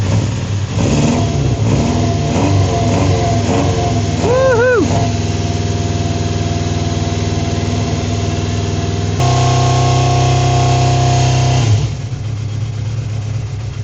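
A neglected classic 1980s carbureted sportbike engine runs on choke, loud and close, revving and wavering before settling into a steady high idle that drops away near the end.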